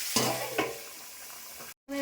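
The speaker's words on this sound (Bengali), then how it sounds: "হলুদ দিচ্ছি, নাড়াচাড়া আবার ঢেকে দিব।" Vegetables fry in a pan as turmeric is stirred in, giving a low steady sizzle with a couple of soft scraping strokes of the spoon, quiet and close, ending in a brief cut.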